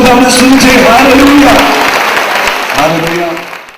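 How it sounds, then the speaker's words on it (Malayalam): Audience applause at a Christian gathering, a broad dense wash of clapping that stays loud for several seconds before fading out, with a voice speaking over it. "കൈയടിച്ചു."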